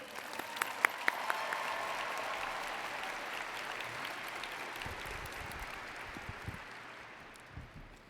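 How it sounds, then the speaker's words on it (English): A graduation audience at a 2022 Marshall High School ceremony applauds the valedictorian, a steady wash of clapping across the hall, with a few sharper claps up front early on, gradually tapering near the end. "Please join me in a round of applause for our 2022 valedictorian,"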